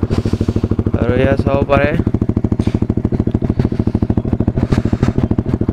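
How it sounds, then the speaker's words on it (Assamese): A motorcycle engine runs after being started on a cold morning, a close, loud, rapid even putter that briefly revs; someone talks over it. "বাইকখন জাষ্ট উলিয়াই কল ষ্টাৰ্ট দি দিলোঁ"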